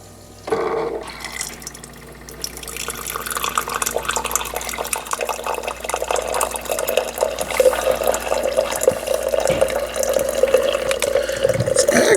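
A Keurig K79 coffee maker flushes water after vinegar descaling, giving a steady splashing trickle and drip that starts abruptly and runs continuously at moderate loudness.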